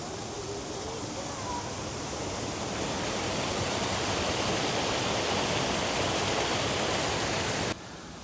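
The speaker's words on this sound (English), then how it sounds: "We'll walk along this here, which turns into a waterfall down here." Broad, steady roar of rushing water from a nearby waterfall below a dam in Wisconsin, growing slightly louder before dropping off abruptly near the end.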